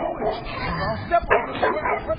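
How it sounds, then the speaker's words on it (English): A neighbor's dog barks and yips in a quick run of sharp, fairly close barks with a whiny edge. "Neighbor's dog asking where his package is."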